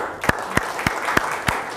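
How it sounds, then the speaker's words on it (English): Audience applause after a Melbourne fashion designer's interview, heard as five sharp, evenly spaced claps or bursts over a soft background murmur, fairly close and moderate in level. "Round of applause."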